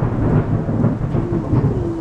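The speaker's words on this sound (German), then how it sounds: "Es donnert einfach weiter." Thunder rolling through a rainstorm in the Mexican jungle, a loud, continuous low rumble over steady rain, with no voices.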